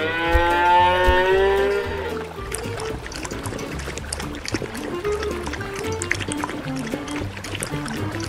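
A toy cow in a farm diorama gives a long, loud moo at the start, followed by softer background sounds with faint splashing and low murmurs.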